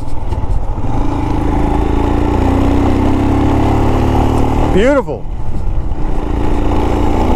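A Royal Enfield Himalayan motorcycle engine drones steadily and loudly while riding, with wind rumble throughout and a brief spoken word near the end.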